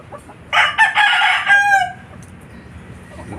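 Backyard chickens kept at a house, with a rooster crowing loudly and close for about a second and a half, followed by quieter clucking and low ambient noise.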